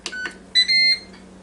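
A Ninja Foodi Deluxe multicooker beeps as its power comes on: two short chirps followed by a longer electronic tone, clear and close in a quiet kitchen.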